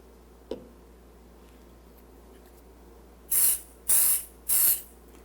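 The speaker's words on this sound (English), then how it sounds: "Just one light spritz and then walk away for 5 minutes while it dries." GluBoost accelerator is sprayed onto a guitar neck during finishing. After a small tick, three short, close hissing spritzes come in quick succession against a quiet room. No voices are heard.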